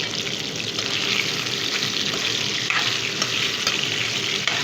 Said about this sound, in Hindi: अब इसी में मैं तेल गरम हो चुका है, उसी में मैं चिकन डाल रही हूँ।